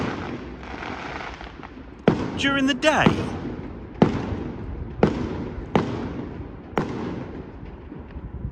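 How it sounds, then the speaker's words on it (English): Several sharp booms go off one after another, with a whistling rise in the middle, and people talk over the bursts. "Fireworks"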